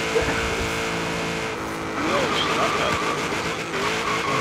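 Mazda Miata racing in Forza Horizon 3, its engine roaring steadily with tire squeal and skidding, mixed with game sounds and a voice talking over it.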